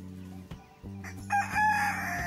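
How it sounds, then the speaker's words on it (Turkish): A rooster among a flock of bearded Silkie chickens crows once, close and loud, with a rising drawn-out call over a low steady background. "Evet, horozumuzun ötüşünü duyuyorsunuz."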